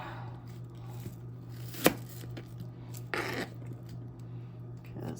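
A knife chops potatoes on a kitchen cutting board for a southern hash brown casserole. A few quiet, scattered cuts land close by, with one sharper knock standing out among soft shuffling sounds.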